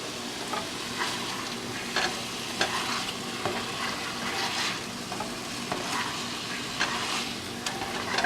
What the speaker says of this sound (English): we're gonna stir that around